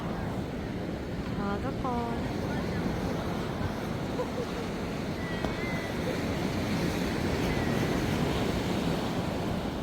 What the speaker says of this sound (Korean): 해운대 바닷가예요.